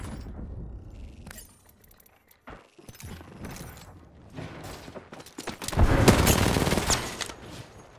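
Gunfire in Apex Legends, with bursts of automatic shots and sharp cracks that build to a loud, dense volley near the end, mixed with mechanical clicks and game effects.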